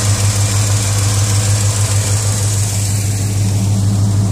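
A Chevrolet C10 engine idling with a slight lifter tick, making a loud, steady low rumble up close. A faint, fast ticking rhythm rides on top of the idle throughout.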